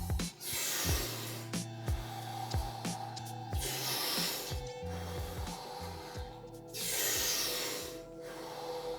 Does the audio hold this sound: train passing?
no